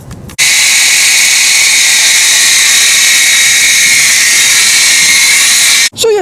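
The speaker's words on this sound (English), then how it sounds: "that is the lovely noise it's been making lately" A 2008 Hyundai Sonata with a 3.3-liter V6 cranks into a loud, harsh high-pitched whine and grinding roar that holds steady for several seconds before cutting off abruptly.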